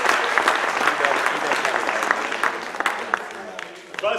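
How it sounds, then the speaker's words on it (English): At a Rotary club meeting, a roomful of members gives a round of applause, dense clapping that gradually thins into scattered individual claps near the end, with voices mixed in underneath. "Give Buster a round of applause."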